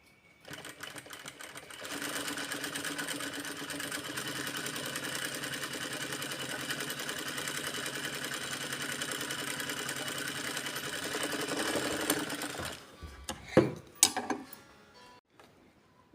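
A sewing machine runs steadily as it sews rows of straight stitches across fabric, a continuous close mechanical whir for about eleven seconds before stopping, followed by a few brief clicks and handling knocks.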